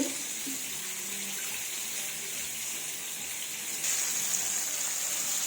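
Chicken popcorn frying in a pan of oil gives off a steady, even sizzling hiss that fills the clip, growing slightly louder partway through. No one speaks.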